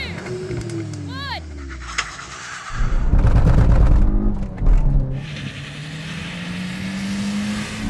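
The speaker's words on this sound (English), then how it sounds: "Okay, one last go to drag race these cars, see if we can do a bit better." An i20N, Fiesta ST and Polo GTi launch together in a drag race on a wet surface: engines rev and surge loudly, with a burst of heavy roaring acceleration midway that then settles into a sustained drone.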